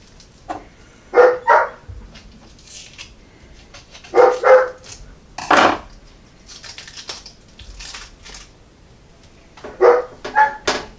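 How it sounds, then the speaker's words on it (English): A dog barks outside in short pairs and clusters of loud, close barks separated by quiet gaps of a few seconds, with faint clicks and rustling in the background. "normally I would just let him in so he'd stop barking like an idiot"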